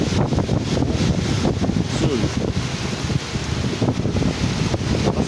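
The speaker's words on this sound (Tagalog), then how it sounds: "Yan, ang lakas ng hangin. Tsaka ulan, grabe." Strong wind roars steadily against the microphone of a truck with a dense, rushing hiss of heavy rain blowing through, continuous and loud throughout.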